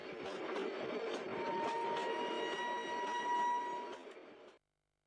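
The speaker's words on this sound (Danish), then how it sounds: "Nu kommer toget." A train pulls in with a steady rolling rumble and sustained tonal whine, loud and continuous for about four and a half seconds before cutting off abruptly.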